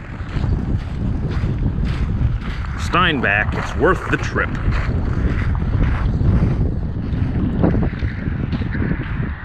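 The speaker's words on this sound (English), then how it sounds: "A little windy too." Wind gusts buffet the microphone outdoors on a frosty, chilly late-November morning in Manitoba, a steady rough rush under someone talking throughout.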